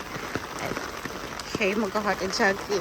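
Heavy rain patters and splashes steadily in the background, loud and continuous, while a person talks over it in the second half.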